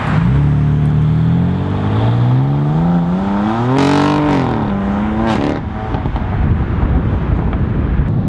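A BMW M4 LCI Competition with M Performance parts driving, its engine note rising and falling through the revs, loud and close, with a sharp burst of acceleration midway and strong wind rush throughout.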